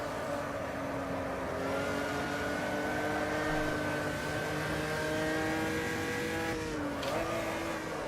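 An Opala 86 stock car on the Interlagos circuit in a racing game holds a steady, loud engine drone in third gear, its pitch sagging briefly on a lift near the end before picking back up.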